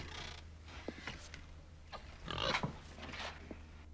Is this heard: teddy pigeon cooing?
no